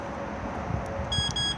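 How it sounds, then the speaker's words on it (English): A Lunar Lexon 660 alarm disarming: two quick high electronic beeps chirp in succession, short and close, over a steady low hum. "2 beeps disarmed"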